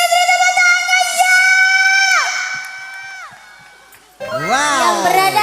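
A crowd of supporters cheers for the singer with a loud, drawn-out shrill whoop that tapers off, then bursts into a fresh wave of excited shouting.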